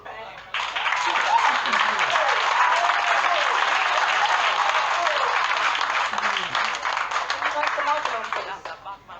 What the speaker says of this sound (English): Can we give him another clap, please?